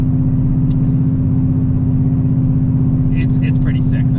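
Corvette C7 Z06 fitted with a new loud aftermarket exhaust, its engine throbbing in a loud, steady idle-like burble, with a few faint ticks and sharp bursts near the end.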